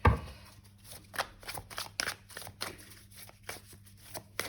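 An old, long-unused tarot card deck being shuffled by hand, giving a soft run of riffling and flicking card sounds in irregular bursts, close and quiet.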